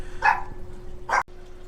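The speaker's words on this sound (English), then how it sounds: "Apparently the dogs are having a barking fit tonight." Dogs barking at night in a fit of repeated barking: two short, sharp barks about a second apart rise clearly over a steady indoor hum.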